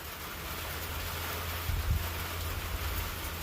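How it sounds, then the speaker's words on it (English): Steady broadband hiss of heavy rain pouring down, with a low rumble swelling briefly in the middle, continuous and fairly close. "It's pouring rain."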